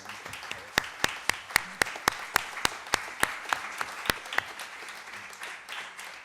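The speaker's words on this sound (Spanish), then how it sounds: "Y aplausos más bonitos, en serio." An audience at a poetry reading applauds with a steady run of sharp, evenly spaced claps that fade out toward the end. The sound is close and fairly loud and plays alone, without voices.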